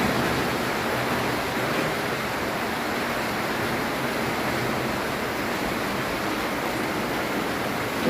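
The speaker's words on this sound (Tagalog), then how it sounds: "Tulo na yung bubong nila." Water leaks through a house roof in a steady, even rush of broadband splashing and hiss, close and constant with no talk over it.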